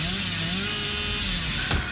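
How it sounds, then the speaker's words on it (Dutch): A video game chainsaw revs steadily and loudly throughout, a dense continuous buzzing drone with no talking. "Wie wil mijn kettingzaag?"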